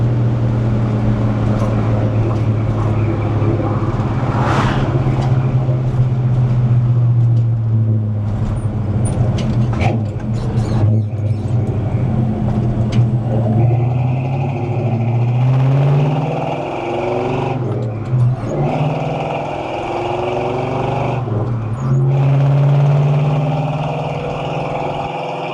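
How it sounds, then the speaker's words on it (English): A 1969 Chevrolet Chevelle SS 396 with a big-block V8 and four-speed accelerates hard on a test drive, the loud engine drone rising through the gears with several shifts, heard close from inside without talk. "Lots of muscle coming off there. You can feel the engine pulling. That's that big block torque."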